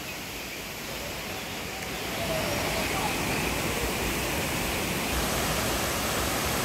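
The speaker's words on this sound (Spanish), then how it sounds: "El río, el agua." River water rushes over the rocks at the San Pedro Soteapan waterfall, a steady, dense roar with no breaks that swells slightly louder partway through.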